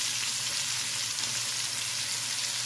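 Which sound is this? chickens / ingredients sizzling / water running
ingredients sizzling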